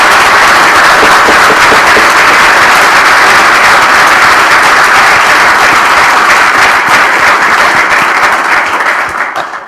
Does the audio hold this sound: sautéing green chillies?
no